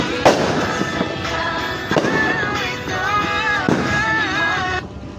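Several sharp bangs burst one after another, each followed by crackling and whistling sparkles, loud and close, with faint voices underneath.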